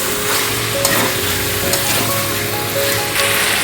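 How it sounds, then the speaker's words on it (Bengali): Potatoes sauté in a pan of spiced masala for a red mutton curry, giving a loud, continuous sizzle broken by scattered scraping and stirring clicks. "আমরা এখানে কষানোর মধ্যে আলুগুলোকে দিয়ে দেব"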